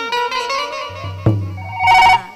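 A telephone rings with a bright electronic tone against other tonal sounds, ending in a short, louder ringing burst.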